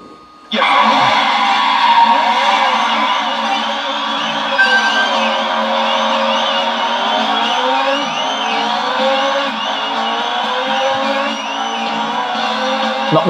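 A Ferrari F50 with automatic transmission races in OutRun mode in a driving game on an original Xbox, a continuous loud synthesized engine drone shifting in pitch alongside game music, steady throughout.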